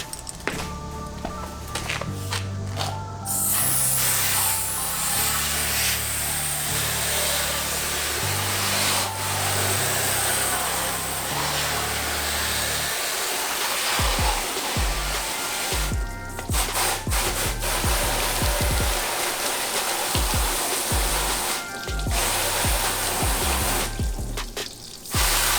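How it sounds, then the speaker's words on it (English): Rough brush scrubbing gravel bits out of a part on an Evo project, a long loud run of dense rasping strokes mixed with a wet spraying hiss, pausing briefly now and then, close by with no talking. "Needed to get a rougher brush to get these little pieces of gravel out"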